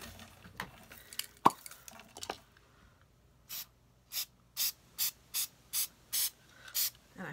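Several short hissing bursts from an aerosol can, sprayed in a quick, fairly regular series after some quiet handling noises.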